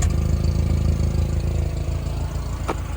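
A Nissan Hardbody 4x4 with a tiny muffler and an exhaust leak idles close by with a rough, uneven low rumble, and one brief sharp pop stands out near the end.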